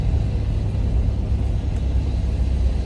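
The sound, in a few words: Buick Reatta driving and shifting gears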